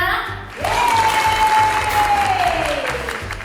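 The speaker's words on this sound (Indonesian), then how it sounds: "Boleh minta tepuk tangannya?" Guests applaud in a ballroom in Surabaya at Natalie's birthday party, a broad burst of clapping that starts after a brief lull, with a sustained tone sliding slowly downward over it.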